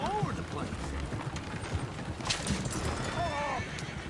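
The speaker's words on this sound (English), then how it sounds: "Oh, shit, the horses! Damn horses!" Horses clip-clopping and whinnying in a video game, with hoof-like clatter and a couple of rising neigh-like calls amid a busy mix of game noise and ambience.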